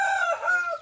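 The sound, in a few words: native chicken rooster crowing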